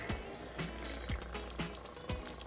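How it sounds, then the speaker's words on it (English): Water poured into a seasoned cooking pot, about two cups, while making a Sunday dinner of rice and gravy; a steady close splashing pour with a few louder gulps and sloshes, no talking. "I'm going to add around 2 cups of water"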